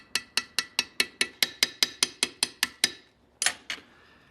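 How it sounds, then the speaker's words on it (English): A small hammer peens the end of a rivet pin to set it: about a dozen sharp, evenly spaced metallic taps in a quick steady rhythm, a brief pause, then two final strikes, close and clear. "This little hammer is going to forge the end of this pin so that it's wider than the hole, and that will set the rivet."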